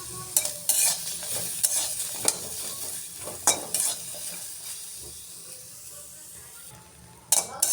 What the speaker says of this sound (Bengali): মরিচ আর রসুন এখন ভেজে নেব।